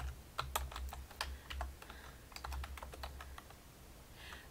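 Quick typing on a computer keyboard in short irregular bursts of key clicks, fairly close and moderately quiet, with no voices.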